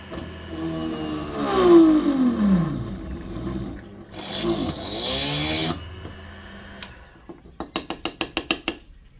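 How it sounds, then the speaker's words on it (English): A power drill whirs through an Irish penny, its motor pitch sweeping down and then up again through two bursts, followed by a quick run of sharp rhythmic clicks. "So just gently drill through the centre."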